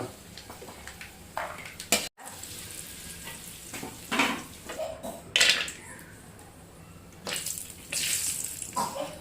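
Water from a small glass is poured into a cooking pot in a home kitchen, coming in several short splashing gushes between quieter gaps, with faint background clatter and no talking.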